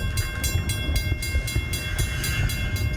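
A fireworks excursion train running on rails, a steady low rumble with a regular clickety-clack of wheels over rail joints, close and continuous.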